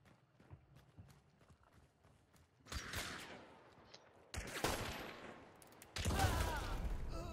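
Gunfire in the video game Hunt: Showdown, where early faint clip-clop ticks give way to three loud sharp blasts, each ringing out into a long rumbling tail, with no talk.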